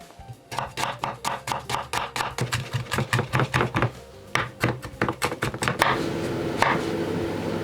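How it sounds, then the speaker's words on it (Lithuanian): Onions and mushrooms are chopped finely in a quick, steady run of close, crisp knife strikes, about twenty in a row, pausing briefly before a few more chops. "Svogūnus ir grybus dažniausiai kapojam ir kapojame kaip galima smulkiau."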